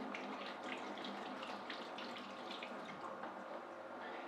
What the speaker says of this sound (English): now we're going to go into the bell pepper.